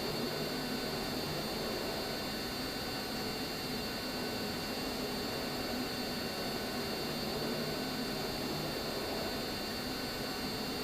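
Swiss Boeing 777-3DE(ER) jet engines spooling at high thrust on a takeoff roll, a steady loud roar and hum that fills the whole clip without a break, heard from inside the aircraft with no talking.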